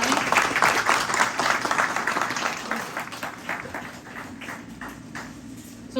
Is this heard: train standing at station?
no